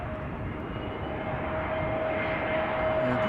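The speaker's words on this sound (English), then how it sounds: "EasyJet A320neo arriving from Birmingham" Steady, moderately distant engine whine and rumble from an EasyJet Airbus A320neo arriving at Amsterdam Schiphol, a constant hum with a thin tonal note running through it and no voices.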